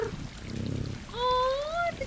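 A cat in the video game Stray gives a low rumbling purr, then a drawn-out meow rises and falls, close and clear.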